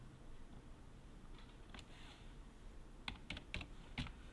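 Typing on a computer keyboard, quiet and close: a few scattered key clicks, then a quick cluster of taps near the end over a low room hiss, with no voices.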